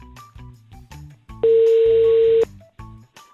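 A steady electronic telephone dialing tone sounds for about a second, loud and continuous, between stretches of people talking.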